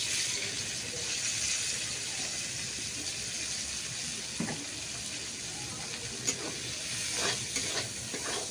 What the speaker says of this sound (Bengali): এই তেলের মধ্যে পেঁয়াজগুলো দিয়ে দিচ্ছি